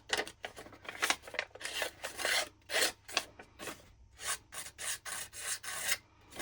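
Fingernails scrape and rough up the paper edges of a handmade journal, making a run of quick, dry rasping strokes in uneven bursts, close and fairly quiet with no voice.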